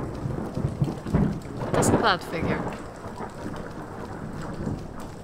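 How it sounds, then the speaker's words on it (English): Rain and thunder in the video game Skyrim: a steady hiss of rainfall with a rumbling thunder roll swelling near the middle, while someone speaks briefly over it. "And it's still raining."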